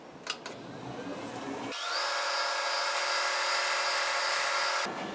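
A South Bend lathe polishes and chamfers a metal pulley sleeve, a few light clicks giving way to a steady motor whine that rises into a brighter, louder hiss and rasp, then drops off.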